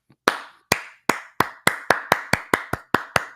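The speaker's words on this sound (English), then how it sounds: "It's a nice slow clap." A slow clap from a single pair of hands, about a dozen crisp, loud claps close by, starting spaced out and gradually speeding up, with no talk.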